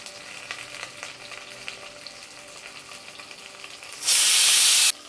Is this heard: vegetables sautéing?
yes